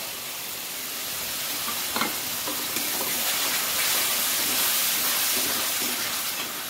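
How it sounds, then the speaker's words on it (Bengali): Ground tomato paste fries in a pan for dhaba-style chicken bharta: a constant broad hiss of sizzling with a couple of faint knocks near the start and no talking. "এবার দিয়ে দিচ্ছি টমেটো বাটা।"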